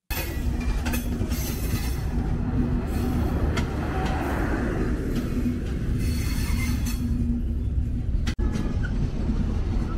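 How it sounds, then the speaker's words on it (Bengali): Chilahati Express passenger train pulling out of Ishwardi bypass railway station in Bangladesh, a loud, steady onboard rumble with wheel clatter and faint squeals, broken by one brief sharp dropout near the end. "আমাদের ট্রেন ছেড়ে বেরোচ্ছে ঈশ্বরদী বাইপাস রেলওয়ে স্টেশন"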